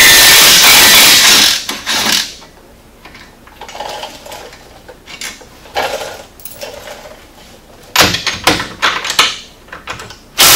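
A 3/8 ratchet and a 15mm wrench remove nuts on the rear axle of a Polaris RZR S 800, giving loud close bursts of clicking and metallic clatter separated by quieter pauses.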